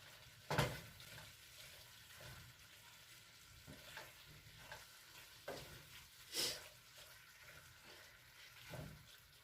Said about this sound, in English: And just mix that around.